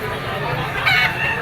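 A stag crows at a gamecock auction market in Lipa, a brief mid-level call rising over steady crowd murmur and nearby talking.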